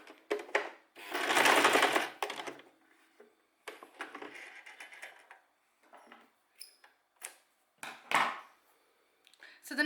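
Domestic sewing machine stitching fabric weights, a loud rapid run of stitches followed by shorter bursts and pauses for back stitching, close up and without talk.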